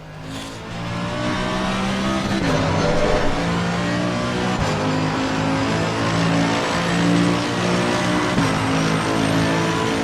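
A race car in the Assetto Corsa Competizione racing sim drones loudly and continuously, its engine note rising and falling through gear changes across the whole stretch.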